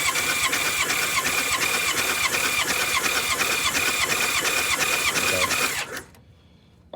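Starter cranking a 1994 Honda GL1500 Goldwing engine, cold, during a compression test: a steady rapid chugging rhythm, loud and close, running about six seconds before cutting off abruptly into quiet.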